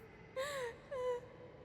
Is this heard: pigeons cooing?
no